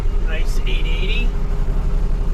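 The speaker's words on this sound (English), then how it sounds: "Freightliner FLD 120 behind him. Red Peterbilt behind him." A Freightliner FLD 120 and a red Peterbilt truck drive past, giving a steady, loud rumble of road and engine noise through the whole stretch, with a brief higher whine partway through.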